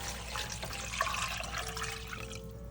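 A litre of water poured into a pot for a beef soup, a soft continuous splashing and trickling stream, fairly quiet, with a faint tonal ring near the end as the flow eases.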